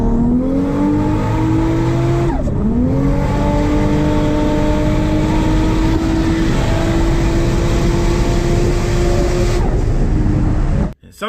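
A turbocharged inline six-cylinder car engine revs loudly and close, climbing in pitch, dipping briefly and then holding a sustained high-rpm drone before cutting off abruptly at the end.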